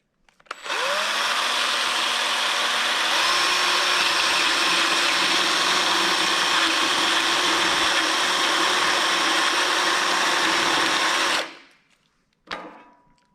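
A step drill whines steadily through a hole for about ten seconds, loud and close, then winds down, followed by a single sharp click.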